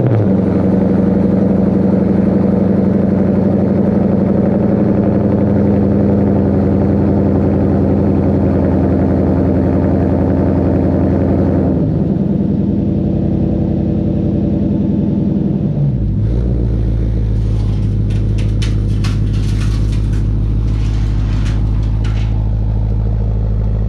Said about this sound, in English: I pulled the car out of the garage